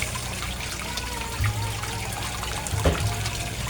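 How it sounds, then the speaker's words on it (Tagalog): An 18-watt aquarium air pump runs and bubbles water, a steady close trickling and bubbling wash with a few louder gurgles, heard alone. "ipiplex ko din yung air pump ko. Yan, ito. Yan, naka-on na."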